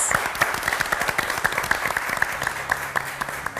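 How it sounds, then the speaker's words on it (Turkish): Applause from a Turkish quiz show's studio audience, dense rhythmic clapping that holds steady throughout, with faint voices underneath. "bir alkış veriyorum"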